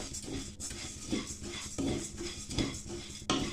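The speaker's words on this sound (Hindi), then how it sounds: "इस चावल को मैं भून रही हूँ और हल्का ही इसको भूनना है।" Rice dry-roasting in a pan while being stirred brings repeated scraping and light clinking of a utensil against the metal pan, in uneven strokes that are close and fairly soft, with no voices.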